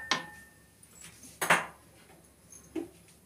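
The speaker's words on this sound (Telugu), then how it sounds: "కడాయి పెట్టేసుకుందాం." A kadai (wok) set onto a home stove before frying chicken for curry: a sharp metallic clank near the start, a louder scraping clatter around the middle, and a small knock near the end, with quiet room tone between.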